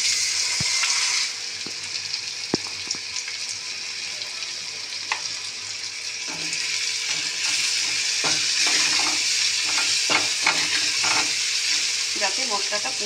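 Spices for a fish curry sizzling and frying in a pan after a splash of water is added, a steady hiss with scattered clicks and stirring scrapes, no talking.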